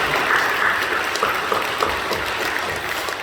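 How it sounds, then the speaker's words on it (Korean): Steady, dense clapping from a church congregation during a Sunday worship service, filling the room at an even level throughout with no voices over it. "우리 박수로 사랑하고 격려해 주시고"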